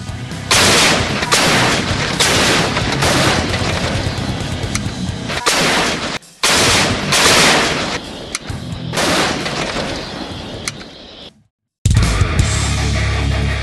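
M2A2 105 mm field artillery howitzers of the Indonesian military firing a loud series of booming gunshots in rapid succession, close and dense, with a brief silent gap before a final heavy blast.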